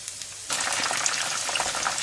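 Chicken pieces deep fry in hot oil, the sizzle erupting suddenly after a brief quiet moment into a dense, loud, crackling hiss that holds steady.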